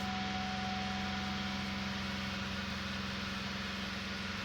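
A 2003 Chevy Impala engine idles steadily with an idle fault, a continuous low hum with a droning tone under broadband noise that holds fairly even, with little audible rise or fall in speed.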